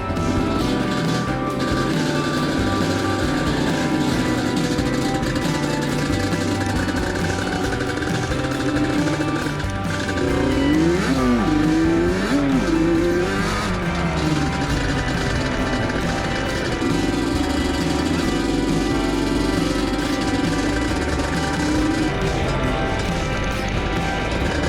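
A Yamaha Banshee 350 ATV engine runs loud and continuous throughout a ride, with a rough, hammering two-stroke rattle and rising and falling revs near the middle.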